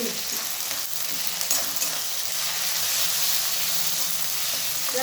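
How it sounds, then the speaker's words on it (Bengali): Ginger, garlic and green chili paste stir-fried with onions in hot oil for a mutton curry, a steady, loud sizzle and hiss with soft stirring scrapes running throughout. "এরপর আমি ভালোভাবে আদা, রসুন আর কাঁচা লঙ্কার পেস্টটা ভালোভাবে নাড়াচাড়া করে নিচ্ছি"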